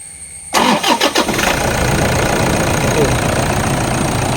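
A 2014 Toyota Innova is started up close: a brief, stuttering crank of a few beats catches into a steady, loud engine idle that continues to the end.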